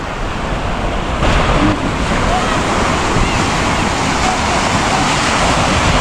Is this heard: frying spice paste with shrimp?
no